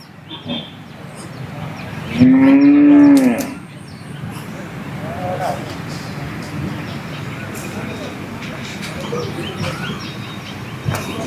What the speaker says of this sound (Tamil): இங்கே ஒரு கண்ணுக்குட்டி இருக்குது இங்கே ஒரு மாடு இருக்குது